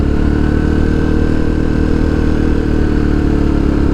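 A motorcycle engine drones steadily at close range while riding on a mountain road through forest, a loud, constant mid-pitched hum with no talk.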